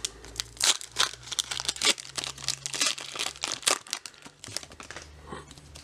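Foil wrapper of a Pokémon Chilling Reign trading card pack crinkles and tears open up close, a steady run of sharp rustling bursts with no talking.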